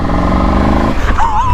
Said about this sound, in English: So this is something that comes with the exhaust, so proper low end in the revs